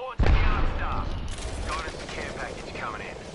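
Gunfire in Apex Legends crackles in a burst of shots near the start, then continues as a busy mix of game effects with voices talking over it.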